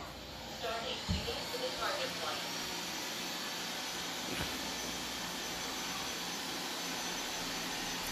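Two robot vacuums, a Roborock S5 and a 360 S6, run together indoors. Their soft, steady whirring hiss continues throughout, with a few faint bumps and light clicks.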